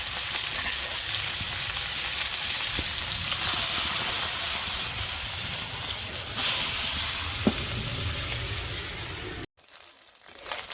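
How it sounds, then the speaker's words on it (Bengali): Small puti river fish frying in a pan, with a continuous crackling sizzle and hiss that carries on steadily before cutting out briefly near the end. "পুঁটি মাছ পেয়েছে আজকে ভাজবো"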